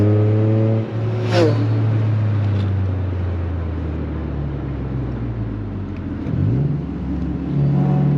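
A Toyota GR Corolla engine revs hard on the winding Tail of the Dragon mountain road, loud and close from inside the cabin, pitch climbing through a gear, dropping on a shift, then building again.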